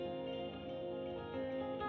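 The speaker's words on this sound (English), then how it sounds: "a bunch of reverb and delay and then a little compression on the end" An electric guitar sustains a washed-out chord through a reverb, delay and compression chain, with a smooth, steady tone at low volume and no talking.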